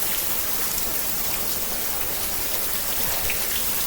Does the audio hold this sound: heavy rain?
yes